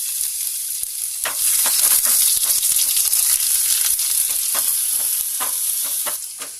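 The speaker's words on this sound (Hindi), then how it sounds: "ऑयल गर्म हो चुका है, उसमें जो हमने लहसुन और अदरक को चॉप करा था वो डाल देंगे" Crackling sizzle of food frying in hot oil, with sharp popping bursts scattered over a continuous hiss.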